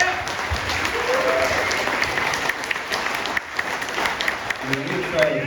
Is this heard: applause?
yes